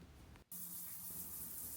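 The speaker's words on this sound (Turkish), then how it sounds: "Kendime gelmek için hızlıca bir duş aldım." Steady rush of running water, like a shower spraying, broken by a brief pause before the flow resumes evenly.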